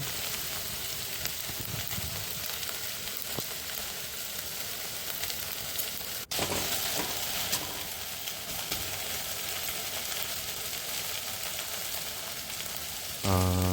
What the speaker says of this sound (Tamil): வெண்டைக்காய் வந்து மட்டும் நல்லா கிண்டி விட்டுகிட்டே இருக்கணும்